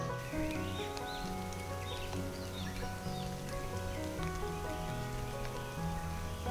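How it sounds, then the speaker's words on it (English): Steady rainfall patters in a garden during the rainy season, a soft continuous hiss of drops with faint birdsong in the background. "I'm hearing rainfall right now"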